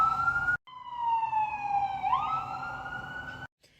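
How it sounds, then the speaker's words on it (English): An ambulance siren passing outside, a loud steady wail that drops in pitch as it moves by, heard alone after a brief cut with faint background noise. "There's an ambulance."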